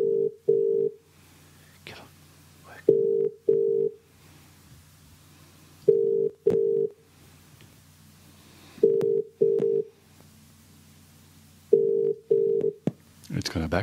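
A phone's ringback tone heard through the line: repeated double-burst rings in a steady pattern, with quiet gaps between and faint voices in the background.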